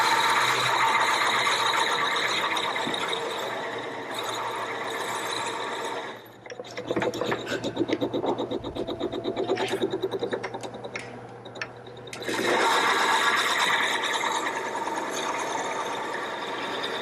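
Wood drilled out for hollow turning on a lathe: a steady whining grind runs for several seconds, drops to a chattering, rattling bite, then resumes its continuous drone, close and fairly loud, with no speech.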